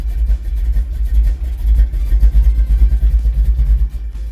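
A carbureted engine runs with a steady low, rough rumble and slight rises in revs, loud and close throughout with no talk.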